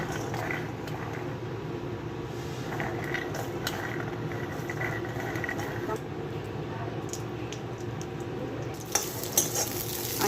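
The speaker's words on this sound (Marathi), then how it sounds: "सर्वप्रथम आपण दाणे भाजून घेऊया।" Green pigeon pea seeds roasting in a pan, a soft steady sizzle with faint scraping stirs and a few small utensil clinks near the end.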